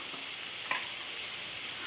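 Pre-fried peanuts go into a pan of frying broad beans, giving one brief soft clatter over a faint, steady sizzle.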